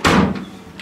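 A hotel door swings shut with a loud, heavy thud up close, followed by a brief resonant rattle and a faint latch click at the end.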